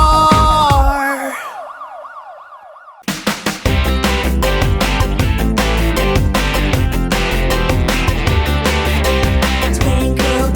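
A cartoon police car siren wails loudly in a children's song for about a second and a half, then falls silent before bouncy, full-band music kicks in.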